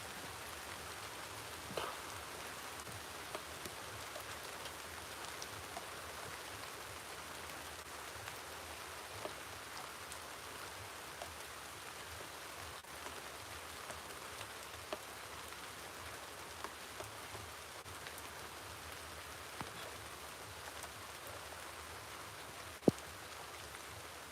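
Continuous rain falls in a constant wash of noise, broken by occasional louder drips and one sharp tap near the end, with no one speaking.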